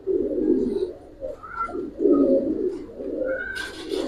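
Giribaz pigeons coo in a loft, repeated close, throaty rolling coos in overlapping bursts, with a brief rustle of wings or handling near the end.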